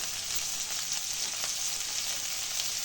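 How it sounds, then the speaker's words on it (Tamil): Curry leaves and chopped green chillies sauté in hot oil in a pan, giving a soft, even, continuous sizzle with faint stirring underneath. "எல்லாத்தையும் சேர்த்து நல்லா வதக்கிடலாம்"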